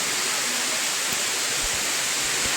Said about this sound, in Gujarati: તો વરસાદ પણ ચાલુ થઈ ગયો